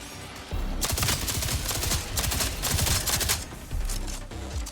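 Rapid bursts of automatic gunfire in a space-themed shooter video game, several loud rattling volleys separated by brief pauses, close and dominant.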